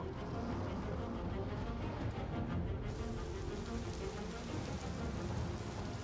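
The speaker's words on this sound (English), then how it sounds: "a huge storm." Dense, steady rain pours through a thunderstorm on the planet Pyro 1 in the video game Star Citizen, a continuous loud hiss with low rumbling underneath.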